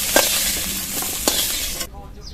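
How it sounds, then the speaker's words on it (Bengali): Small crabs fry in mustard oil with salt and turmeric, a steady broadband sizzle with a couple of sharp stirring clinks, cutting off abruptly near the end to near silence. "এরকম লাল করে ভেজে নিয়ে তুলে নেব"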